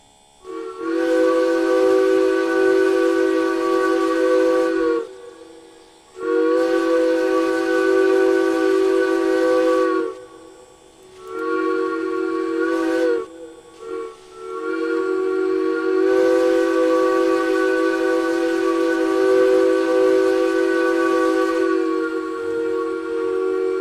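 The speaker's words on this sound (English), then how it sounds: "you probably modded the whistle on the Steam Engine because... it was not great" A modded steam locomotive whistle on the S282 engine in the Derail Valley train game sounds in long, loud, tonal blasts, several sustained and a couple of shorter toots, with a faint hiss in the gaps.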